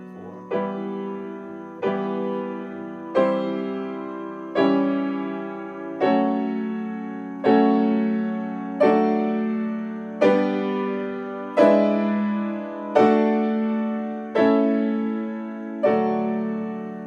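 Piano chords struck together as solid blocks, about a dozen evenly spaced hits, each ringing and fading before the next.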